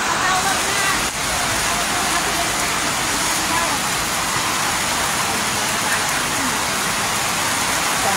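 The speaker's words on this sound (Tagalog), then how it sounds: "Kasi tuloy-tuloy pa rin yung ulan" Heavy typhoon rain in Antipolo City, a loud, unbroken roar of downpour with dense high hiss and steady low wash, constant and close throughout.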